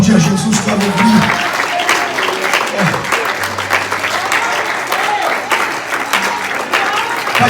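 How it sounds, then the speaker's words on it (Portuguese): A church congregation applauding, loud sustained clapping from a large crowd filling the whole stretch, with a voice briefly heard underneath. "Você pode aplaudir a Jesus com alegria."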